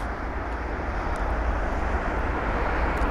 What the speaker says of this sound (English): Here's a Turkish 777.